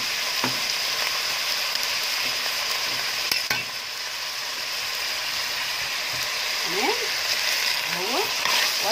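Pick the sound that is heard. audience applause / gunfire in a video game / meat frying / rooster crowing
meat frying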